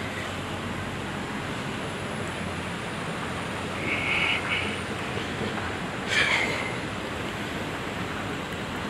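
An elevated airport skytrain station in Jakarta fills with a steady, broad roar of trains and station ambience, with brief brighter whines rising over the constant wash.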